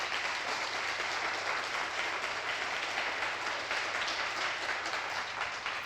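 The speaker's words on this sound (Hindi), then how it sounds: "एक बार जोरदार ताली बजाइए आपके लिए" An audience applauds at a network marketing business event, a dense, steady clatter of many hands clapping that holds throughout at an even level, with no speech over it.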